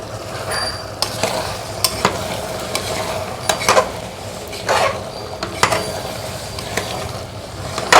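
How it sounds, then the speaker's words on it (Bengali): Mutton bhuna masala with Kashmiri red chilli, cumin and coriander powder being stir-fried in a pan, a loud steady sizzle broken by repeated scraping strokes of a spatula, no talking. "জিরে গুঁড়ো, ধনে গুঁড়ো দিয়ে এবার এই মশলাটা ভালো করে কষাতে থাকবো"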